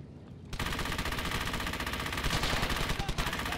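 Sustained machine gun fire in the World War II shooter Brothers in Arms: Hell's Highway, a dense rapid rattle that kicks in abruptly after a half-second pause and continues loud and steady to the end.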